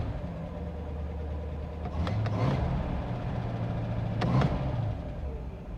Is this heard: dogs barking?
no